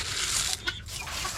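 Backyard hens cluck softly at feeding time near a garden, a few faint clucks under steady outdoor noise.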